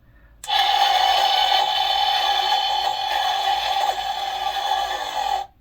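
NECA ED-209 action figure from Robocop playing a robotic sound effect through its small built-in speaker: one steady, loud electronic tone with a fixed pitch that sustains for about five seconds before cutting off abruptly, with no talking.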